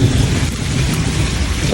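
Heavy rain falls on a village on an early morning, a steady, loud wash of broadband noise with a low rumbling undertone that continues throughout, no voices.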